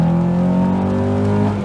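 A modified Honda Accord CL9 engine pulls hard under acceleration, a loud, steady rising drone with strong harmonic layers that carries through without a break and with no voices.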